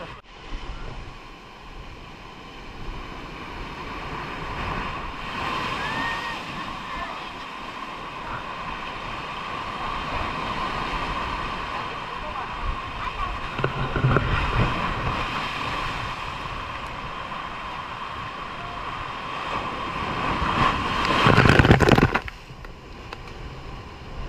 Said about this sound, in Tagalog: Di tayo pwedeng alis hanggat may malaking alon.